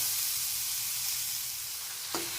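Tomatoes with salt sizzle and fry in a pan while being stirred, giving a steady loud hiss with a brief scrape near the end.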